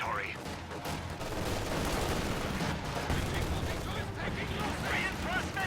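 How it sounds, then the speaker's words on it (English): MG42 machine gun bursts and other gunfire in a video game battle with grenadiers and snipers, a dense, continuous crackle of shots and explosions, with a voice talking over it. "MG42 suppresses those rear echelon troops."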